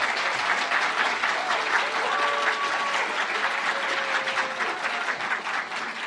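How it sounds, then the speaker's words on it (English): An audience applauds the two finalists at the UC Irvine Law moot court competition finals, steady, full clapping throughout with a faint murmur of the crowd. "Let's have another round of applause for Alex and Jared."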